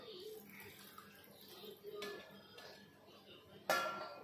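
Water splashes and pours briefly into a pot of field bean curry, with a sharper gush near the end, over a quiet room background.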